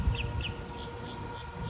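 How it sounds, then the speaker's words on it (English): Birds calling on a morning walk by a lake, a few short distant calls repeating over steady background hiss, faint and without voices. "you can hear that, the birds chirping."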